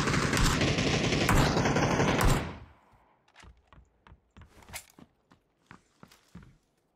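PUBG gunfire starts as a dense, loud burst of automatic fire that cuts off abruptly. Scattered, fainter sharp shots and footstep-like taps follow in the quiet.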